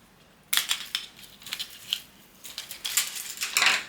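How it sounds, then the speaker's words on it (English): Scissors snipping through material for a DIY Valentine's Day heart wreath, a few crisp close cuts with clicks and rustles, alone without talk. "so we will use our scissors to cut that off."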